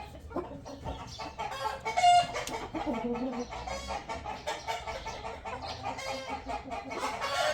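Hens and a rooster cluck repeatedly at close range in a farmyard, with a busy, overlapping rhythm of short calls and a brief squawk partway through.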